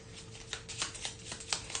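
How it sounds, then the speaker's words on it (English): A Black Rose Wars evocation card deck being shuffled, giving a quiet run of soft riffling and slapping card bursts, close up with no talk. "we give the evocation, Black Rose evocation deck a good old shuffle"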